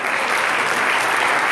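Sustained applause from a church congregation, steady and full-bodied, filling the space for the whole moment without a break and with no voice over it.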